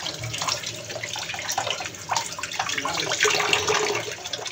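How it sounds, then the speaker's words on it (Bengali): Tulsi leaves rinsed under a running tap, a continuous splashing stream of water with uneven spatter as the leaves are washed by hand. "তুলসী পাতাটাকে খুবই ভালোভাবে ধুয়ে তারপর চায়ে অ্যাড করতে হবে।"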